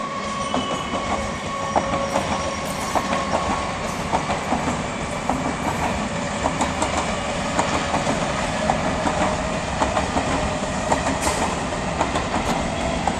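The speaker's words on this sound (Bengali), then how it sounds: "এটি তো লোকাল ট্রেন" A local train passes close by, a loud, steady rumble with continuous clickety-clack of wheels on rails and faint metallic squeals throughout. No voices are heard.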